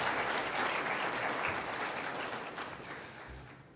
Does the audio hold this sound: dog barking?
no